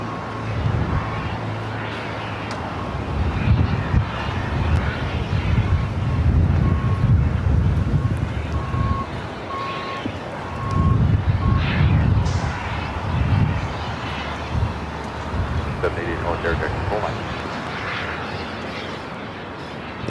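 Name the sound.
Cathay Pacific airliner taxiing onto taxiway Lima at LAX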